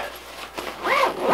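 A foldable, packable Venture Pal 35-liter daypack being zipped shut, a single rising zip stroke that builds in loudness near the end, close and clear with no talk.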